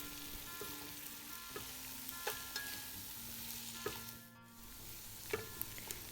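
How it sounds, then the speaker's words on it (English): Onions sautéing lightly in a pot for Persian meat stew, a steady close sizzle with occasional stirring taps and utensil knocks, no voices. "Add onions and saute lightly until they become soft."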